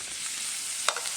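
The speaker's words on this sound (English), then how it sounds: "That's our butter melting down, and we're going to go ahead and add, not those babies, look real. I'm going to go ahead and add our vegan shrimp." Vegan shrimp sizzle in melted butter in a pan, a steady bright frying hiss with a brief stir or clink near the end.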